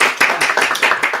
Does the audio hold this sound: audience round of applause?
yes